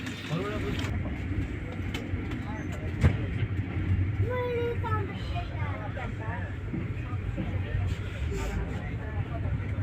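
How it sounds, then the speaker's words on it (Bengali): A passenger train rolls onward after pulling out of Sreemangal station in Bangladesh, with a steady, loud low rumble and rattle filling the carriage throughout and voices murmuring underneath. "শ্রীমঙ্গল থেকে আমাদের ট্রেনটা ছেড়ে দিয়েছে আজমপুরের উদ্দেশ্যে"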